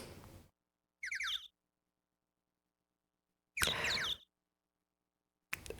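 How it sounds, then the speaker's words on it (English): Odd bird squawks from the Phoenix Wright: Ace Attorney video game come as short, chirpy electronic bursts. Three or four separate calls are broken up by clear silences. "Why do the birds sound so weird?"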